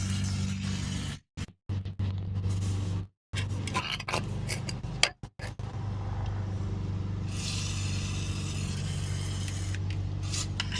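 Penetrant sprays onto rusted exhaust bolts on a GMC during a flex pipe replacement, with short close hissing bursts separated by gaps, followed by a longer steady hiss over a low background hum.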